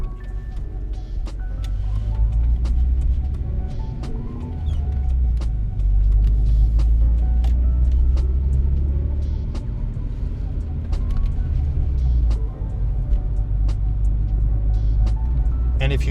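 A Volvo 240 classic daily driver cruising at night, its low engine and road rumble steady and close throughout, with faint intermittent ticks and clicks above the drone and no talk.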